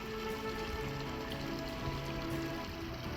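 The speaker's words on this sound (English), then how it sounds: "A waterfall that's not too dramatic, so it doesn't make too much noise" A small, gentle waterfall trickles into a natural garden pond among rocks, a soft, steady patter and splash of water heard close by and alone.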